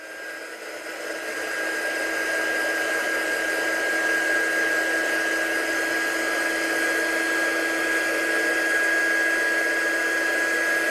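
Steady whooshing blow of a heat tool drying embossing powder for faux wax seal prints, a constant close airflow hum with a thin whine running unbroken throughout.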